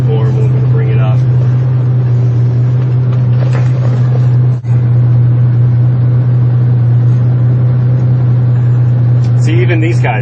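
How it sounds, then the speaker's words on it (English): A Ferrari 400i with a five-speed manual accelerates on a test drive, its steady engine drone loud and close throughout, with a brief dip partway through and voices talking over it. "we're going to start accelerating a little bit more, and we're going to bring it up."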